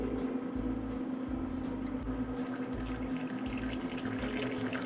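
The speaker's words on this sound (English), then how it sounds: "you're gonna get 80 PSI of water running down the hose of this guy" Water streams steadily from an E-drill system's pump hose at about 80 PSI once the air is purged, a continuous rushing flow with a low humming pump tone underneath that brightens partway through.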